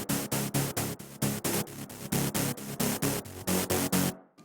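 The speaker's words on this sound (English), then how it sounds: "adding some distortion to a sound that has some bright white noise on top of it sounds really good and really crunchy sounding" A crunchy synth layered with bright white noise and pushed through distortion, compression and a dimension expander plays in a steady chopped rhythm of about a dozen even hits, loud and upfront, ending in a brief silence.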